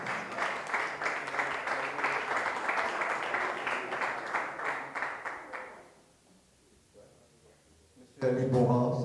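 Applause rises from the audience at a press conference held by a French-speaking collective, steady dense clapping for about six seconds that fades out and gives way to quiet room tone, then a voice begins speaking near the end.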